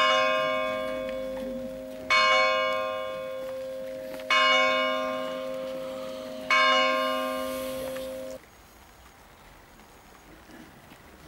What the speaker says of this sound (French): son de la cloche qui nous annonce donc qu'il est bien 11 heures.